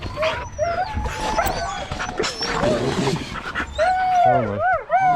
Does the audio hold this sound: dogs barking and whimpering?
yes